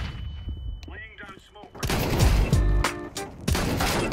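Rapid gunfire bursts from a weapon in Counter-Strike 2 crack loudly and repeatedly at close range, following a quieter stretch of game sounds, with players talking in the background.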